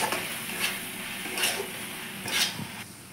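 Cumin powder, turmeric and Kashmiri chilli are stirred and fried in a pan for a paneer and peas dish, a steady sizzle with a few scraping strokes of the spoon, close and moderately loud.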